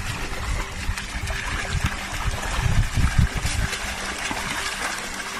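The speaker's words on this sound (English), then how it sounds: "Oh, big splashes, big splashes." Brown trout thrash and splash in a farm pond, a churning, irregular wash of water up close that swells in the middle and continues steadily throughout.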